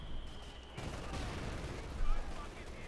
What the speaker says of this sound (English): Mortars back in action.